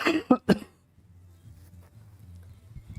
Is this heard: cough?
yes